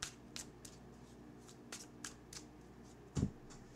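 Tarot cards being shuffled and drawn by hand, heard as soft, close riffling and flicking with scattered light taps and one firmer slap of cards near the end.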